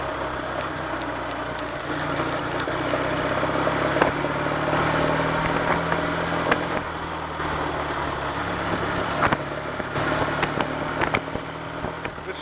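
A Triumph Trophy TR5 motorcycle with a sprung hub and wide-ratio gearbox runs on the road, its engine droning steadily at moderate level with wind rush and slight rises in pitch as it pulls.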